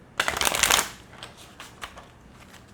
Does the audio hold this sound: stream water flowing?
no